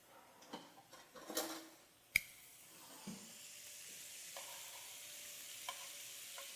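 Spicy shrimp cooking on a grill pan give off a faint, steady sizzle, broken early on by a few sharp clicks and clatters from handling, with no talking.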